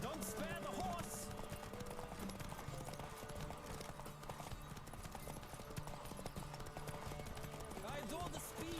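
A horse gallops in a race in The Witcher 3: Wild Hunt, its hoofbeats a fast, steady clip-clop with an occasional whinny, under game voices.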